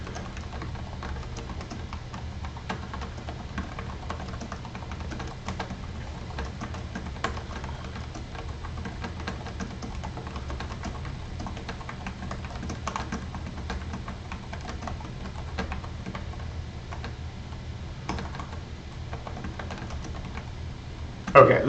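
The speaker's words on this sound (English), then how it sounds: "Let's just type it all out." Faint, steady typing on a computer keyboard, soft irregular key taps running continuously under low background hum.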